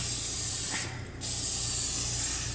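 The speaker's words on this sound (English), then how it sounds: "I'm opting for olive oil spray." Olive oil cooking spray greases a dish in two close, loud bursts of hissing spray, split by a brief pause.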